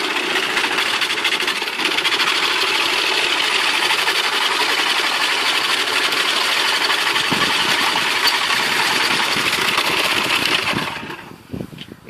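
A small motor drives a homemade wooden feed cutter for rabbit fodder, a loud, steady buzzing whir that runs continuously for about eleven seconds before cutting off, leaving a few faint knocks.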